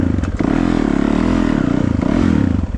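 A KTM 500 dirt bike engine revs loud and close with a rapid, throaty pulsing drone that rises and falls slightly across the whole stretch, with a few clattering knocks near the start.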